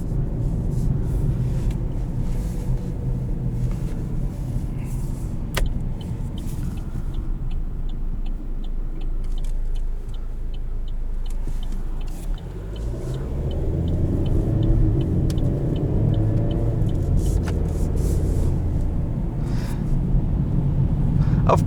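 A 2020 Chevrolet Sonic LS with a 1.4 liter turbo engine drives along, producing a steady low road and engine rumble that dips briefly and then swells louder as the car picks up speed.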